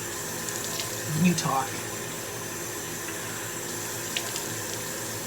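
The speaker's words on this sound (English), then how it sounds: "Excuse me while I rinse my face." Tap water runs into a sink while someone rinses their face at a bathroom basin during a night skincare routine, a steady low splashing with a brief louder burst under quiet talk.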